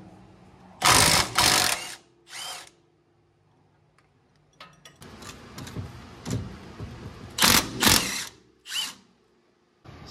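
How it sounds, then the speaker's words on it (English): Power tool removing the lower shock bolt on a 1998 Honda Prelude during a coilover install, several loud whirring bursts separated by pauses and quieter ratchety rattles, close up. "Then we'll take this bolt off and we'll be able to move the shock out."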